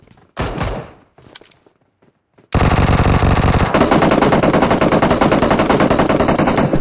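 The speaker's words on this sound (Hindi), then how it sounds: "तो भाई यहाँ पर इतनी फायरिंग हो रही थी" Rapid automatic gunfire in the PUBG/BGMI mobile battle royale game, a few loud bursts and thumps, then a sustained, dense fusillade of shots at close range.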